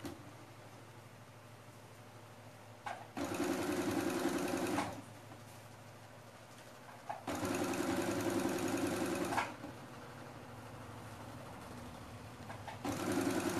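A sewing machine stitching a doll's dress, running in three separate bursts of steady mechanical whirring, each lasting about two seconds, with quiet pauses between them and no talk.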